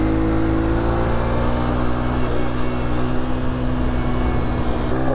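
A Honda CRF150F dirt bike engine drones loudly and steadily on a road, a constant buzzing hum with slight pitch wavering and no pause across the whole stretch.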